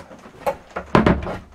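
A bathroom door closes with a couple of light knocks and then a firmer thud and rattle as it shuts, close by and brief, with no voices.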